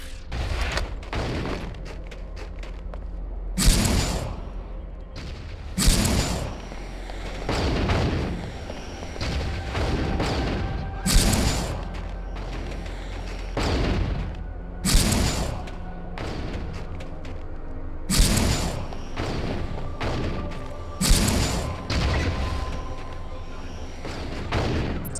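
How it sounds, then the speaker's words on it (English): Rocket launcher blasts in Deus Ex: Invisible War boom repeatedly, about ten heavy explosions spaced a few seconds apart, each a loud wide burst with rumbling decay over continuous game background noise. "maybe it's time for me to spam rocket launcher"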